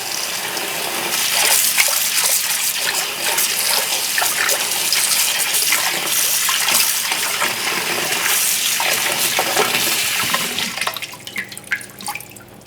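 Running water rinsing fresh parsley spread out in a sink for tabouli salad, a steady close splashing gush with scattered drips, tapering off into sparse trickles as the flow stops near the end.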